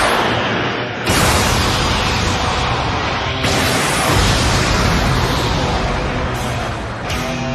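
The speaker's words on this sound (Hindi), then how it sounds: "लगता है ब्लास्ट ठीक उसके सामने हुआ है।" Loud, sustained explosive blasts from a Dragon Ball Super anime battle between Goku and Jiren, heard as broadband roaring bursts that restart sharply several times across the stretch with no speech.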